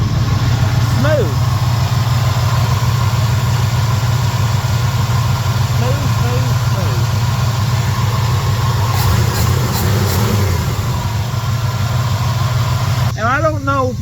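A truck engine idles steadily while warming up to temperature, a constant low rumble running throughout, with someone talking over it.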